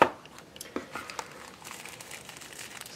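A frosted plastic bag of strong plastic holding a stereo headset is handled up close, giving a sharp opening crackle followed by scattered soft crinkles and rustles in a quiet room.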